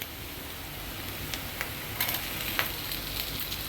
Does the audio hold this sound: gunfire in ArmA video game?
no